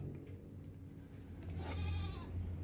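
A goat with a skin disease, being treated, gives a short wavering bleat in the second half over a steady low background hum, fairly near and moderately loud.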